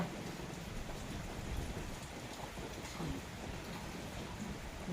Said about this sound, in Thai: ฝนมันตกอากาศดี